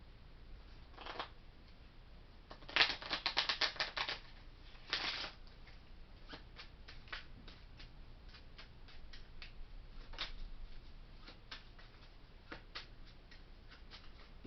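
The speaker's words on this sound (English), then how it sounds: "I'm pulling a lucky numbers card for Pisces in the month of May." Tarot-style lucky number cards being shuffled and drawn indoors, a run of quick crisp riffling bursts followed by scattered light taps and slides of cards, close and quiet with no speech.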